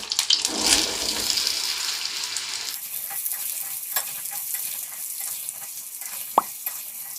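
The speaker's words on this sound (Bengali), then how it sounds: "এবার আমি এর মধ্যে দিয়ে দিচ্ছি ডুমো করে কেটে রাখা আলু" Diced potatoes hit hot oil already crackling with panch phoron, the Bengali five-spice mix, and set off a steady, close sizzle. Light stirring runs through the frying, with a single sharp clink near the end.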